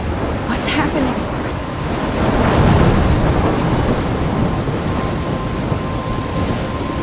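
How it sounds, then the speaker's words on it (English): A thunderstorm in the video game Life is Strange, with heavy steady rain and rumbling thunder that swells in the middle, loud and continuous with no voices. "I'm trapped in a storm?"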